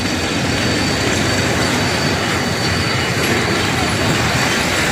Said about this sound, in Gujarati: કુંભારવાડાનું રેલવે ફાટક ઉપર ટ્રેન છે